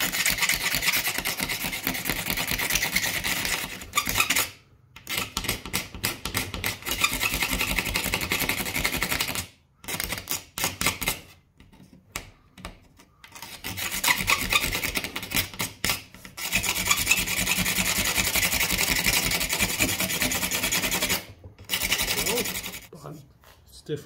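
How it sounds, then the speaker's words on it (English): A razor blade scrapes cured epoxy parts of a large remote control plane, giving a steady, close rasping sound in long strokes. Short pauses break up the strokes. "So I like to use a razor, and I like to scrape these parts."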